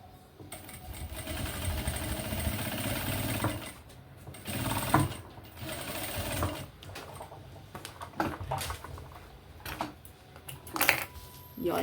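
Sewing machine stitching a bag, a faint rapid mechanical whirring in bursts with brief pauses, close by, with occasional soft handling noises.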